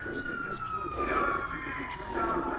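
A police car siren wails in GTA 5, a steady high tone with a slight sweep, moderately loud over a rumble of game traffic and engine noise, with faint voices in the background.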